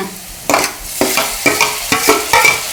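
Ginger garlic paste sizzles in hot oil in a pan for a crab gravy, stirred in about five repeated scraping strokes with a steady fry underneath, close and fairly loud, with no talking.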